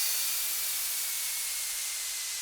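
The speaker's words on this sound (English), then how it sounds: "Then I also added some downlifters like this." A downlifter effect for future bass production plays alone as a bright, airy white-noise sweep that hisses steadily and fades slowly as it falls.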